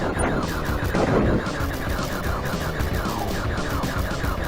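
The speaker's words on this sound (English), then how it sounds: "So just keep shooting, shooting, shooting, and eventually you shoot them all down" Arwing laser fire strikes a boss's legs in Star Fox (1993), a dense, steady stream of rapid shots layered over busy game music and effects, loud and continuous throughout.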